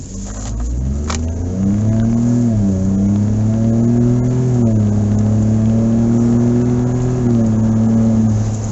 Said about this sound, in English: I just barely touched the gas and zipped past 70 just like nothing